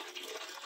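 A household pressure pump motor running as water rushes through the plumbing, a loud, steady hissing flow heard close up in a brief burst with no speech.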